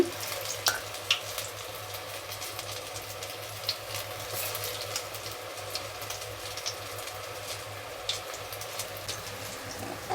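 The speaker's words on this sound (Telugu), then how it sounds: "చూడండి వేసేసాను పొట్లకాయ బజ్జీలు అయితే కొద్దిగా వేగనిద్దాము" Ridge gourd bajji fritters fry in hot oil with a steady, close sizzle and scattered light crackles and pops throughout, with no voices.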